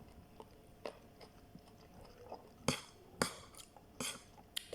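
Close crunchy chewing of tuna salad with cucumber, lemon and cherry tomatoes, heard as sharp, irregular bites and crunches over a quiet background, with faint clinks of utensils.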